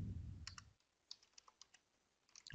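Computer keyboard typing comes in short bursts of sharp, crisp key clicks, with a few scattered taps between them and a low thump at the start. The sound is close but quiet, with no talking.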